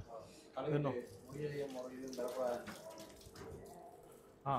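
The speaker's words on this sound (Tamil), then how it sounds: "இந்த செருப்பை போட்டுக்கொண்டு இதில் கால் கழுவணும்." Tap water runs as feet are washed before a fish spa on a Jaffna street, a soft continuous splash beneath close, lively voices talking.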